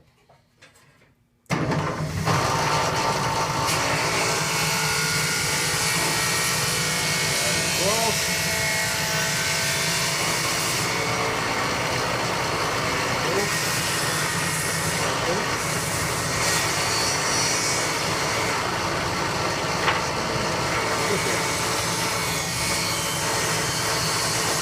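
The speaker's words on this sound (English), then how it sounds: "we're going to gradually raise the saw blade up" A table saw blade runs loudly and steadily as it is gradually raised into a scooped wooden chair seat, a sustained dense whine and roar after a quiet opening second.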